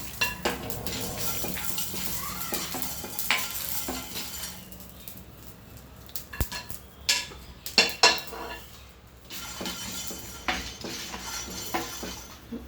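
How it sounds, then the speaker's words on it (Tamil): Fenugreek, cloves, cumin, pepper and onion are roasted in a kadai, with a spoon scraping and clinking steadily against the metal pan and a faint sizzle underneath. Several louder knocks come in the middle, close by and with no voices. "வெந்தயம் கிராம்பு வெங்காயம் எல்லாத்தையும் வறுத்துடலாம்"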